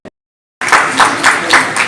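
Audience at the 31st Saraswati Samman award ceremony in Chalala honouring bright students breaks into steady clapping after a brief pause, dense rhythmic applause with a few swells, fairly loud and close.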